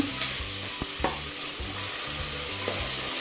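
Tomatoes frying in oil in a pan, a steady close sizzle broken by repeated scrapes and knocks of a spoon stirring.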